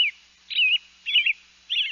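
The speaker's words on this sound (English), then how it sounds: "I'm starting to hear the first robins" Robins singing in a backyard, four bright clear warbled phrases separated by short silences, fairly close and alone without any voices.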